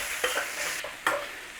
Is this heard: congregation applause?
no